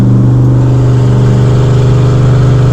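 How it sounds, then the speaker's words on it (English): A 1968 Ford Thunderbird cruises at speed with its exhaust closed, a loud, steady low engine drone with a smooth, even hum throughout and no voices. "with the exhaust closed,"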